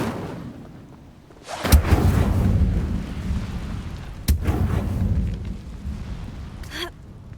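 An Incendio fire spell cast in Hogwarts Legacy bursts with a sudden whooshing blast, followed by a roaring crackle and a second booming burst a few seconds later, loud and alone with no talk.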